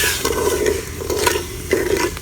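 Sugar and water being stirred in a pot into syrup for a zarda rice dessert, with a steady scraping swish in repeated strokes, close and fairly loud, with no talk.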